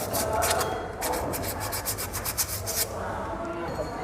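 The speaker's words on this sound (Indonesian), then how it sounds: "Di bagian yang sebelahnya juga ini diamplas, jadi sampai benar-benar bersih atau dia kembali putih lagi" Drum brake shoe lining is scrubbed by hand with sandpaper in quick rhythmic rasping strokes, close and clear, with a dense burst that then eases into quieter rubbing.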